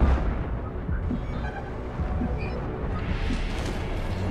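A flashbang grenade goes off in the Mass Effect 2 game, a dense, loud, sustained roaring burst with rumbling low end and no clear break across the moment.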